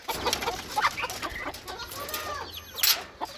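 Hens cluck and squawk in bursts close by, with a busy farmyard murmur underneath and no talking.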